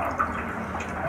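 Water pours into a glass in a home kitchen, a short steady trickle with a small splash near the start, heard close and alone without talk.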